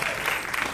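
An audience at a film promotion event claps in a brief steady burst, dense and fairly loud, with no speech over it.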